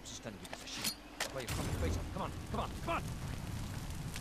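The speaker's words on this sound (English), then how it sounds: "Oh, and they got blown up." An explosion in the video game Far Cry 2 erupts partway through with a deep rumbling roar and crackling debris that lingers, while a voice speaks over the noise.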